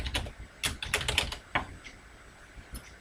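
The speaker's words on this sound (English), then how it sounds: "So I'm going to type the list" Keystrokes on a computer keyboard while a list is entered into an Excel spreadsheet, arriving as clustered bursts of crisp clicks with short pauses between them, close and fairly clear, with no talking.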